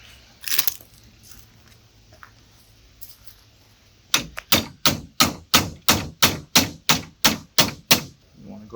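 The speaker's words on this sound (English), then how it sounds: "you're gonna start chiseling." Chisel struck repeatedly to cut out a broken axe handle, a brief tap early, then a steady run of about a dozen sharp, evenly spaced hammer blows, close and loud.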